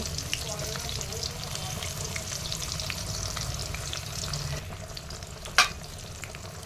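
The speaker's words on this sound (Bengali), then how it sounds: "ফোড়নে দিয়ে এর মধ্যে দিয়ে দেবো কোচনো পেঁয়াজ আরও আছে দেব" Chopped onions fry in oil with dried red chilli, bay leaf and whole cumin, giving a steady close sizzle with occasional stirring, faint speech and a sharp clink near the end.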